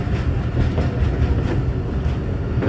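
Bulleh Shah Passenger train moving slowly on the Lahore to Kasur line, a continuous low rumble with rhythmic clickety-clack of wheels over rail joints, close and steady.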